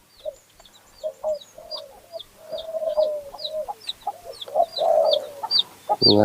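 A nearby rooster gives a drawn-out crow among repeated clucks, while high, regular chirps from other birds run through the whole stretch.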